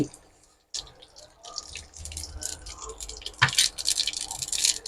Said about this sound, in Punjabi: ਤੇਲ ਆਪਣਾ ਗਰਮ ਹੋ ਗਿਆ ਤੇ ਇਹਦੇ ਵਿੱਚ ਪਾਵਾਂਗੇ ਆਪਾਂ ਕਲੌਂਜੀ ਦੋ ਚਮਚੇ ਆਪਾਂ ਪਾਵਾਂਗੇ ਰਾਈ